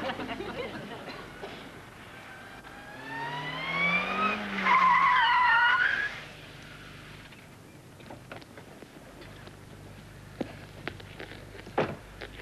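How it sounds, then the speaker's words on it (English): A car performing handbrake turns and reverse spins on a test-track course squeals its tires through a loud, rising-and-falling skid in the middle, with engine revving beneath, then quieter knocks and clatter afterward. "I tend to specialise in this type of driving, the handbrake turns, the reverse spins."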